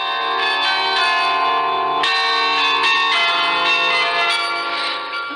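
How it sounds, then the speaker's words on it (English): A melodic sequence of ringing bells plays loudly and continuously, tones overlapping and sustaining like a chime tune: the Radio Netherlands Worldwide interval signal "Merck toch hoe sterk" on shortwave 6.065 MHz at its final sign-off. "Right now, we're going to start the bells."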